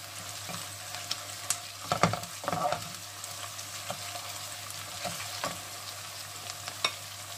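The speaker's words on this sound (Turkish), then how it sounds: "Salçayı da biraz kavuralım." Tomato paste sautéing in a pan, a steady close sizzle with scraping, clattering stirs of a utensil against the pan throughout.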